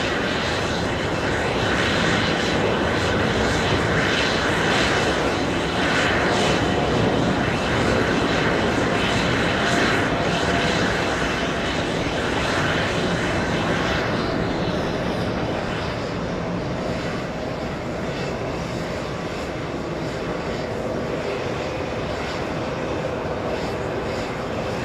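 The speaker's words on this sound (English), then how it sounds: "KLM 642 heading to Amsterdam, 777-200 using 14, correction, 13 right for departure." KLM Boeing 777-200 departing from 13 right at JFK for Amsterdam, its jet engines a loud sustained roar that thins slightly in the upper range partway through and keeps rumbling steadily with no one talking.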